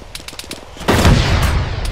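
Rapid automatic gunfire in Arma during a ShackTac squad session, starting as a quick string of sharp shots, then a dense, loud burst of overlapping fire that carries to the end.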